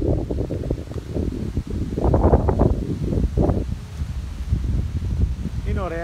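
Wind gusts buffet the microphone during an outdoor electroboarding ride, a loud rumbling that swells and fades under someone speaking Greek throughout.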